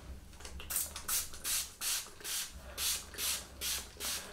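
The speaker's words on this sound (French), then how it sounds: "C'est en fait sous forme de spray." Leave-in hair conditioner is sprayed from a pump bottle onto afro hair in a series of eight or nine short, crisp hissing bursts at an even, quick rhythm, close and clear with no talking.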